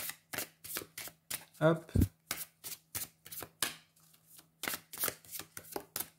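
Tarot cards are shuffled close up in quick, repeated riffling bursts with short pauses between. A voice speaks briefly in French.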